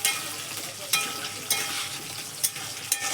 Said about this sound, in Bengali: এবার পেঁয়াজগুলো একটু ভেজে নেব।